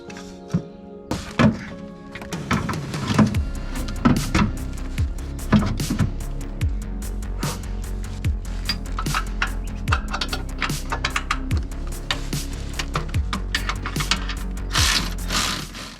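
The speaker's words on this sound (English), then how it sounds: "So just gonna break this loose here, take off the outer tie rod, steal the nuts for over there." A wrench or ratchet breaking loose and backing off the outer tie rod nuts on a Mustang power steering rack, with repeated sharp ratcheting clicks and metallic clunks, loud and close, continuing throughout without talking.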